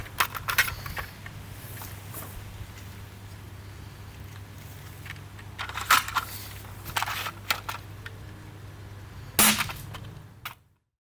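A CEDA Model-S foam dart blaster fires single shots, sharp close pops standing out over a steady low hum, with a few smaller clicks and handling knocks between them.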